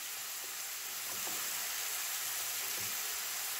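Chicken frying hard in a karahi, a steady, loud, close sizzle with a few faint stirring clinks underneath and no voices.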